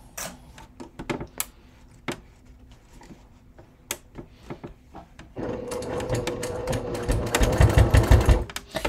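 Sewing machine top stitching a leather crossbody bucket bag, with contrasting top thread and matching bobbin thread; scattered clicks and taps first, then a steady, louder run of close machine stitching in the second half.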